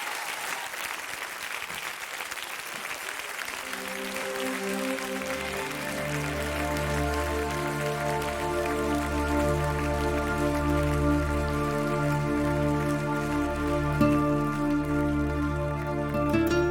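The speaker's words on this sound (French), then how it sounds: "Merci d'applaudir" A studio audience claps for a singer about to perform a song on a French TV variety show, the applause continuous and fairly loud as sustained musical notes swell in beneath it.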